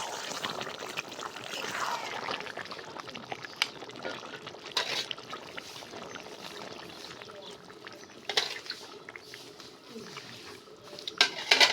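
Water is poured into a pot of sautéed sweet pumpkin being cooked into a jatka fish curry, a steady trickling splash with clinks of utensils and a person speaking over it.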